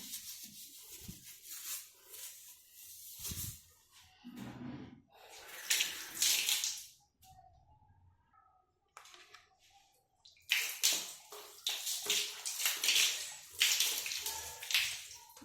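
Water runs over an old steel bathroom tap that has just been scrubbed clean of rust, coming in close splashing bursts with brief pauses, the flow hissing and pattering against the metal and basin.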